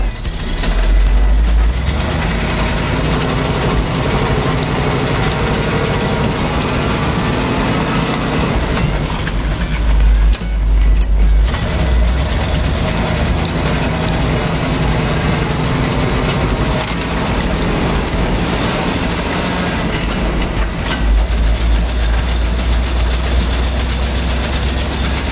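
A 1956 GMC V-8 truck engine idles loudly and continuously for a long stretch, deep and rough, with a few brief surges and dips in the drone.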